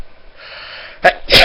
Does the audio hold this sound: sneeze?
yes